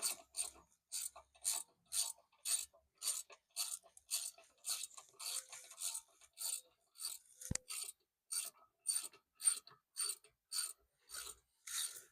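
A ratchet wrench works a caliper slide bolt loose on a Jeep Cherokee brake, with about twenty crisp, evenly spaced clicking bursts that repeat steadily and come through quietly and close, with a single faint knock partway through and no voices.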